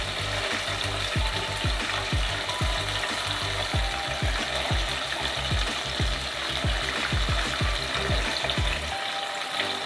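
Chicken pieces frying in hot oil for KFC-style fried chicken give off a loud, continuous sizzle as they are turned one by one, with rapid repeated clacks and knocks from the utensil against the pan.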